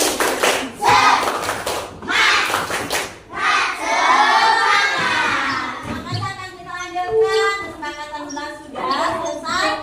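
Primary schoolchildren in a classroom performing a rhythmic clapping chant, bursts of loud claps alternating with shouted children's voices, close and energetic.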